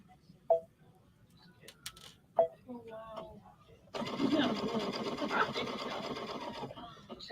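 A Brother XP3 embroidery sewing machine stitches in a store demonstration, running steadily and loudly for the last few seconds after a quiet start broken by brief clicks and a voice.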